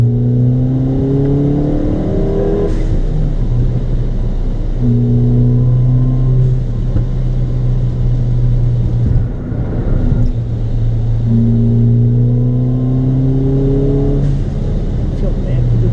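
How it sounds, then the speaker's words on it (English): A Ford Fiesta ST running an E30 ethanol blend accelerates hard, with sustained engine drone rising through gears and brief breaks between shifts where a turbo blow-off valve would vent, heard from inside the car under occasional talk. "I don't like the sound of the blow-off valve at all."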